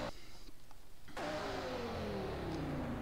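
A test car engine in the Drift Crew racing game starts up and revs, rising in pitch steadily as it accelerates, close and continuous after a brief quieter mechanical start, with no talking.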